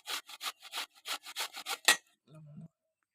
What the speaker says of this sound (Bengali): এরপর আমগুলোকে সুন্দরভাবে ঘষে নেব এইরকম করে